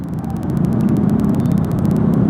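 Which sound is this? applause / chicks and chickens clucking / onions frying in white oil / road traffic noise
road traffic noise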